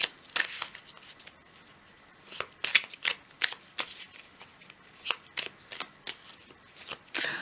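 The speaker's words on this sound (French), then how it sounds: "Alors je prends une carte du petit oracle du tarot" Tarot oracle cards are shuffled by hand in a quiet room, with soft, irregular riffling flicks and slaps spread across the whole stretch, close and fairly faint.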